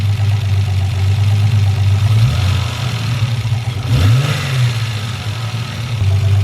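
A Toyota Supra engine runs steadily at idle with its drive belts removed, a loud continuous rumble with a couple of brief revs rising and falling partway through.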